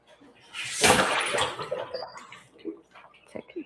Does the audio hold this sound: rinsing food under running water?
yes